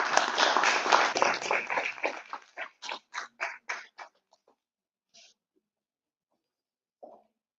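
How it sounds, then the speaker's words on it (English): An audience claps to welcome a speaker onto the stage at a national seminar, dense applause at first that thins into a few scattered, separate claps before dying away, with one last isolated clap after a pause. "Let's all welcome him on stage with a great round of applause"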